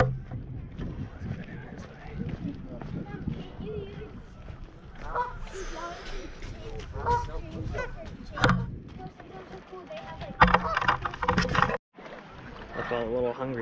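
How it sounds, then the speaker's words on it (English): Ducks and geese honk and call near the water's edge, several birds overlapping with a close, fairly loud flurry, while a person talks over much of it. "It's my little duck friends."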